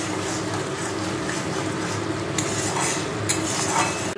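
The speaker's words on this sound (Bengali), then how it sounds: "এখন আলুর দমটা রান্না করবো।" Spice paste for aloo dum, made from green chilli, tomato and almonds, is stirred in a wok with a steady scraping and sizzle of a utensil against metal, close and continuous with a few sharper clinks.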